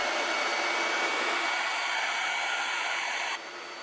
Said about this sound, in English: I'm going to take my hair dryer.